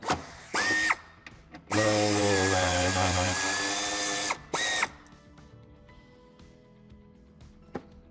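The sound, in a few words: power tool loosening a screw on a Mercedes-Benz GLC Coupé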